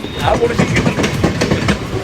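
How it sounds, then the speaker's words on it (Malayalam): Commuter trains rolling through a busy Mumbai railway station, with a steady rumble and rhythmic clacking of wheels over rail joints throughout, loud and close. "ഒരു 2 മിനിറ്റ് കൂടാൻ നേരത്താണ് ട്രെയിനുകൾ വന്നുകൊണ്ടേയിരിക്കുന്നത്"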